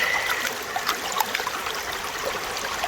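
Creek water flowing steadily on a spring day while gold prospecting, a constant bright trickling and babbling wash close by with small gurgles popping through, no voices.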